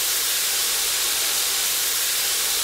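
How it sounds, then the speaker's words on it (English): A steady, loud hiss of steam blowing out of an overfired coal boiler, continuous and unbroken with no voices, filling the whole clip like rushing vented pressure. "that thing you can hear making the noise next door, that's a boiler"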